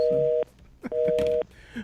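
Telephone dialing tones on a radio show phone line: two sustained steady tones, each about half a second, separated by clicks and faint talk-show background noise.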